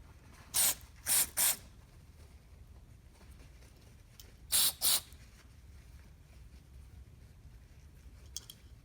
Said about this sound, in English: Hit it with some carb clean here.